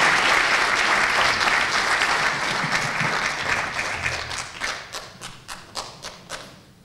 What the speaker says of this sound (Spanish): un fuerte aplauso a la Big Band